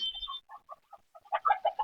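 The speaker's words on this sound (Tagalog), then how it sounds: "magpapakain lang po ako sa alagang manok ni June" Short, soft clucks from domestic chickens being fed come in scattered bursts, ending with a louder cluster of clucking nearby. No one speaks.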